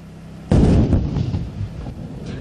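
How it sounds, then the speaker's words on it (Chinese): Heavy artillery, including 155 mm guns, firing in a coastal training drill by the sea: one sudden loud boom that rolls and rumbles as it fades over the next two seconds. "一声轰隆巨响，海面上立刻扬起一道道的水花，震撼力十足。"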